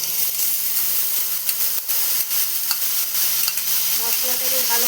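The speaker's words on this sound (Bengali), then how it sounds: "মশলাটাকে ভালো মতো কষিয়ে নিতে হবে" Tomato, green chili and ginger paste fries steadily in a hot pan, giving a dense, continuous sizzle with occasional stirring scrapes, close and fairly loud with no voices.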